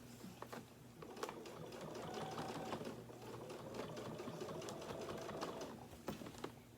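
A sewing machine stitching down the middle of a small rolled quilt sandwich, a fast steady whirring run of stitches that speeds up and slows, with scattered clicks and handling noises, close and quiet.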